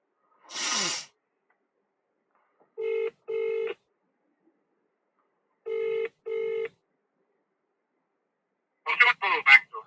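Telephone dialing for a call to a shop: a short burst of noise, then two pairs of ringback tones spaced a few seconds apart, clear and close in near silence, ending with a brief voice answering.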